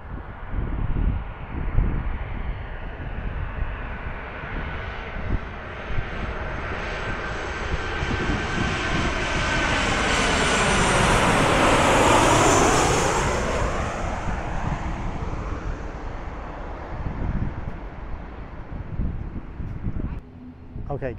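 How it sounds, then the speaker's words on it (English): A Jet2 passenger jet from Bristol comes in to land overhead, its engine roar swelling steadily to a loud peak mid-clip and then fading, with wind buffeting the microphone throughout. "So this is a flight from Bristol, Jet2, EXS5UG, okay? And it's about 70 feet now"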